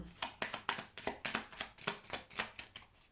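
A tarot or oracle deck being shuffled by hand makes about a dozen quick, evenly spaced riffling bursts. The sound is soft and close, with no voices.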